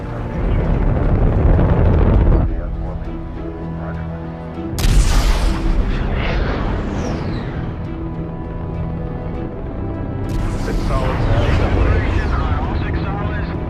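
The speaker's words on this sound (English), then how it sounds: "And we have liftoff of NASA's Mars Global Surveyor as America begins its journey back to the Red Planet." A rocket roars as it lifts off, launching NASA's Mars Global Surveyor. The loud, broad rumble goes on the whole time with crackling surges, and a voice talks over it.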